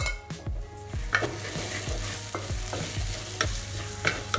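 Coriander and red chili powder fry and sizzle in a pot while a spoon stirs steadily, with repeated close scraping strokes against the metal over a constant sizzle.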